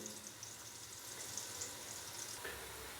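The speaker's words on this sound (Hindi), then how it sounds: "तो अभी प्याज को हम फ्राई करेंगे तकरीबन 4 से 5 मिनट के लिए।" Onions fry in a pressure cooker, giving a soft, steady sizzle with faint crackles throughout. It is fairly quiet, with occasional light clinks near the end.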